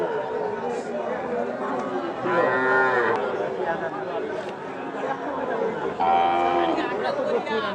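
Cattle moo at a rural livestock market in Panchagarh where Deshal and Sahiwal cows are sold, two loud drawn-out lows rising over a constant background of crowd chatter and nearby talking voices.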